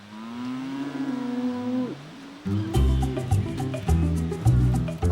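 A cow on a farm lets out a long, sliding moo, followed by a brighter burst of music-like tones, close and loud with no talk.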